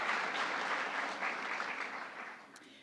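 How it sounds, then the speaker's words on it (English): Audience applause at the White House Tribal Nations Summit: a brief burst of many hands clapping that starts full and thins out over roughly three seconds. "Yes, you can applaud."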